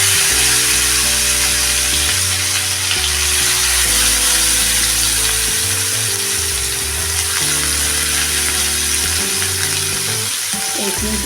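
Fish sizzles in hot oil with salt and turmeric, a loud, constant hiss close by, with a steady droning tonal hum underneath.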